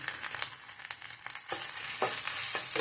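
Grated coconut with nigella seeds frying in a pan for shorshe narkel chingri, a soft crackling sizzle broken by scraping strokes that grow louder and denser toward the end, with no voices.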